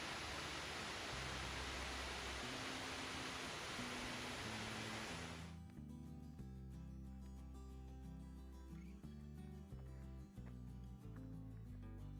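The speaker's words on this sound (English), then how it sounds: "I can hear water. So there's another waterfall apparently" A waterfall on Colorado's Ice Lake Trail gives a loud, steady roar for about five seconds under background music, then cuts off abruptly, leaving only the music.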